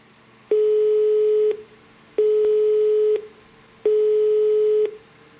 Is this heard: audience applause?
no